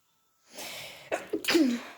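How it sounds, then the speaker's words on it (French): A single sneeze close to the microphone, with a quick breathy intake followed by a sharp burst. "Attention, je vais éternuer."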